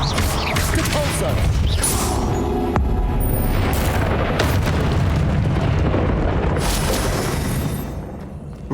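Repulso spell cast in the video game Hogwarts Legacy, a loud, dense burst of booming, crashing effects that stays heavy and continuous before tapering off at the end.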